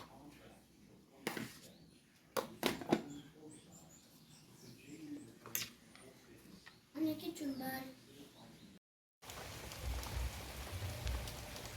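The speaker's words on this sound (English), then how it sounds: "It was really raining a lot" Steady rain falls in the Kenyan countryside with a constant patter close by, while occasional bird calls and children's voices can be heard faintly in the background. A brief dropout is followed by heavier rain noise.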